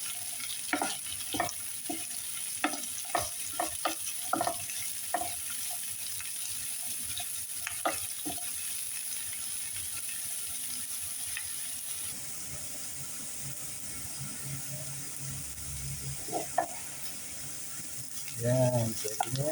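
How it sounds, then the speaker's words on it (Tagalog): Onions sizzle in a pan for Ilocano papaitan while a utensil scrapes and stirs them in a quick series of clacks, then the stirring stops and a quieter frying hiss continues, with a few more knocks near the end. "lagay na natin itong sibuyas. Haluin natin konti"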